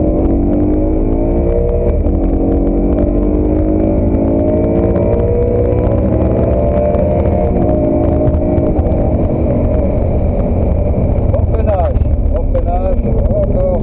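A race car at Spa-Francorchamps roars steadily up through its revs on track, the engine drone loud and continuous with gear changes, while an instructor talks over it throughout.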